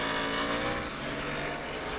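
NASCAR race cars in the 2021 Verizon 200 roaring past into turn 1, a loud continuous engine drone with overlapping cars, steady and close throughout.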